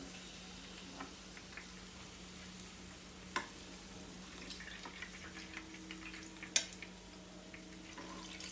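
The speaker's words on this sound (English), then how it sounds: "I'm roasting this in a oil" Banana unnakaya pieces fry in a mix of ghee and oil, giving a steady low sizzle with soft bubbling and a few sharp pops and clinks near the pan, alone without talk.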